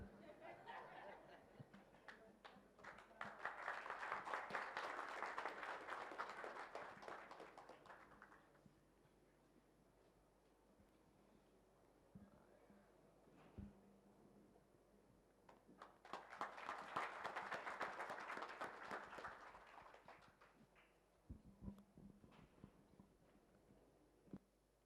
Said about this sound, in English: Another round of applause to Jukwaa Arts